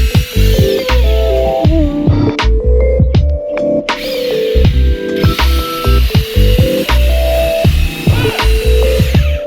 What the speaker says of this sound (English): these are the 3 holes that were drilled with the super shooter